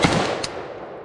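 A Zastava PAP M90 AK-pattern rifle chambered in 5.56 NATO fires a single loud, close shot at an outdoor range, a sharp crack followed by a short fading echo.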